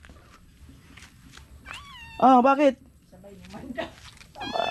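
A cat meows several times indoors in a Filipino home, with clear rising and falling calls and one louder, longer cry mid-clip, while someone speaks close by between and over the meows.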